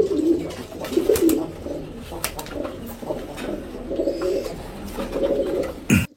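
Pigeons kept by a fancier coo in soft, repeated low murmurs with a few louder coos, close by in a coop, with no talking over them.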